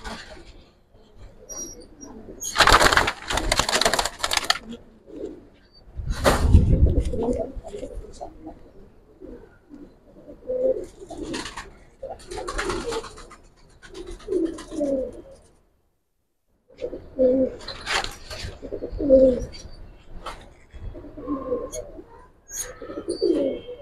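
Giribaz pigeons cooing inside a loft, soft repeated coos in short bursts separated by quiet gaps, close by, with occasional wing flutters and some human voices.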